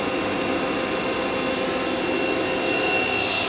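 A Hanwha ML 12 CNC Swiss lathe's sub spindle runs at 6000 RPM, heard from about a foot away as a loud, steady high-pitched machine whine that swells slightly near the end.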